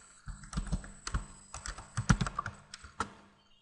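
Password being typed on a computer keyboard, a quick irregular run of close, crisp key clicks and taps lasting a few seconds, with no voices.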